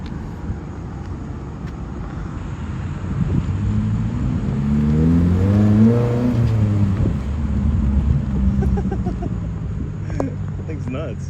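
A 2024 Subaru WRX with a Remark axle-back exhaust revs up and falls back, its rumbling engine note climbing at mid-clip and then settling, close by under a steady idle.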